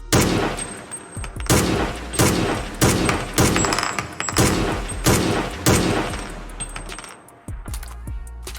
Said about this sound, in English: there's this one scene in the anime where Biscuit is able to withstand point-blank hits from a shotgun